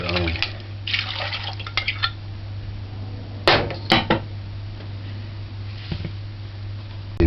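Ingredients for a Jamaican Easter bun, including honey and butter, are mixed in a bowl: irregular clinks, taps and scrapes of a utensil against the bowl over a steady low hum.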